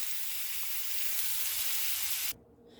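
Hamburger patties searing in a pan give off a steady, loud, bright sizzle that holds evenly for over two seconds and then cuts off abruptly, leaving a quiet low hum.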